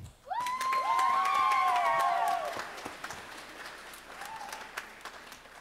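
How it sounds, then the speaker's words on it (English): Audience at a school spring concert applauding an award winner, a dense burst of clapping and cheering that swells at once, holds for a couple of seconds, then thins into scattered claps and murmur. "so she can hear that you clapped for her"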